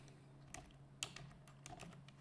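A few sparse, light keystrokes on a computer keyboard as an invoice number is typed into time tracking software, quiet and close with no talking.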